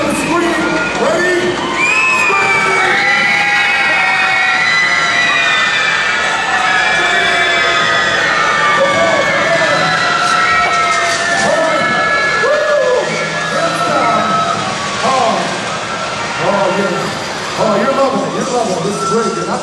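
A hypnotized audience at a stage hypnosis show screams and yells loudly and continuously, a dense crowd of overlapping shrieks and whoops rising and falling throughout.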